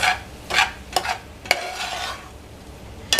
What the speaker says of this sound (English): So once you add that flour, again, we're gonna stir this.